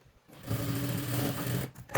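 A sewing machine stitches a semi high neck blouse in a short run of rapid, even mechanical whirring, close and fairly quiet, starting and stopping within a couple of seconds.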